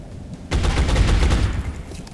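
A soldier's gunshot burst in the XCOM strategy game opens abruptly and loud, a dense rattling volley lasting over a second before fading into a tail.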